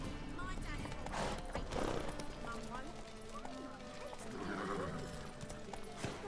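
Roach the horse in The Witcher video game gallops with steady clip-clop hoofbeats and lets out a whinny, with game music and a rider's voice urging the horse on over the noise.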